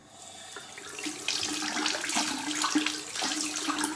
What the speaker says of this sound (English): You run the tap.